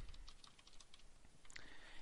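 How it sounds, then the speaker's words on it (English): Fast typing on a computer keyboard while editing code in the 4coder text editor, a steady run of soft close key clicks with a brief louder burst near the end, no talking. "Now, if I start typing, I can go."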